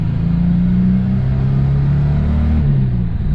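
A Ford Falcon's engine rumbles and revs while driving, a loud, close, steady low drone with a slight rise and dip in pitch heard from inside the car.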